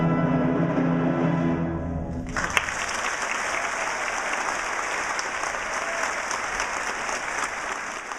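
Music in the Theatro Municipal Capitólio cuts off and a theatre audience launches into dense, even applause that carries on steadily to the end.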